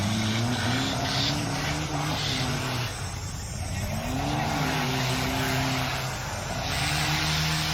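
An off-road vehicle engine revs hard and loud at a Khanom off-road competition in Thailand, its pitch rising and falling in repeated surges, with a faint voice underneath.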